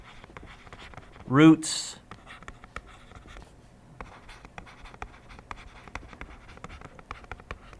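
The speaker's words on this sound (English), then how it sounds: "So I'm going to write here number of" Pen or marker writing out notes during a maths lesson on polynomial functions: a steady scratch of short strokes heard close up, with a teacher's voice talking over it briefly near the start.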